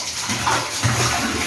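Water splashing and pouring steadily during a household wash of floor tiles, a continuous broadband wash of sound at close range with no clear talk.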